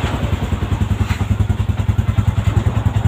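A Yamaha Sniper v2 motorcycle that sat unused for nearly two months runs close by, its engine pulsing in a fast, steady, loud idle rhythm.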